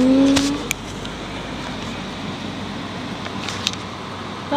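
A car passes by outside as a steady broadband road rumble that fills the scene, with a few faint clicks and a brief higher whine at the start.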